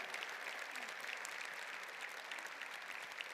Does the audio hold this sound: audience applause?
yes